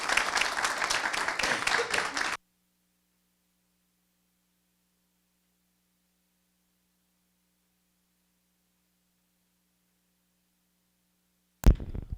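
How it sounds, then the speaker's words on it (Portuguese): A burst of audience applause at the launch of an engineering entrepreneurship program cuts off abruptly after two seconds, followed by long near-silence with a low hum, then a sudden loud sound at the very end. "Vão aplaudir."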